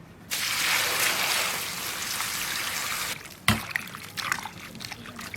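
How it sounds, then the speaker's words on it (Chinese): Sun-dried radish is washed in a basin of water, a rushing splash of water followed by a few sloshes and drips near at hand. "外面晒了几天了，把萝卜干往进洗一下。"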